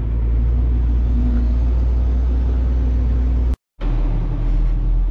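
A dump truck engine rumbles steadily and loudly during a corn harvest, a deep continuous drone that cuts out for a split second near the end before resuming.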